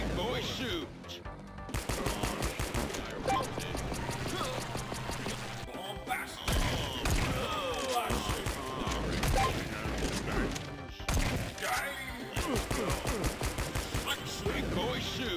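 Heavy gunfire from a big gun in the video game Fashion Police Squad, rapid repeated blasts in dense bursts that fill nearly the whole stretch, with short gaps between volleys.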